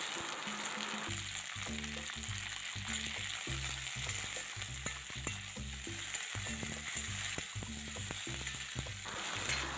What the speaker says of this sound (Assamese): আলু আৰু সজনাখিনি এতিয়া অকণমান ভজা খাইছে লগত মই যিখিনি বিলাহী কাটি লৈছিলোঁ সেইখিনিও দি দিলোঁ